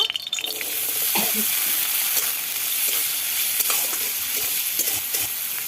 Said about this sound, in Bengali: এবার প্রথমে নারকেলটা ভিজে নেব